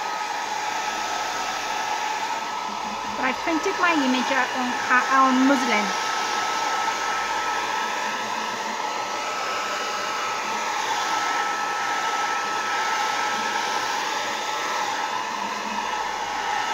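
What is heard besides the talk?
hair dryer blowing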